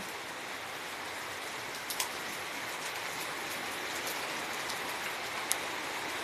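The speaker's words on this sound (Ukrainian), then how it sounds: "ну таке, грому блискавки немає, вона наче не гроза, а просто така злива" Heavy rain shower pouring steadily over a garden, with no thunder; a dense, even hiss of downpour, close and constant, with a few sharper drop impacts now and then.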